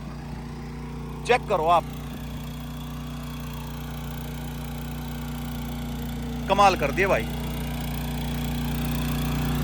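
A tractor engine drives a rotavator, a steady low hum throughout with a constant droning tone, interrupted twice by brief bursts of nearby speech.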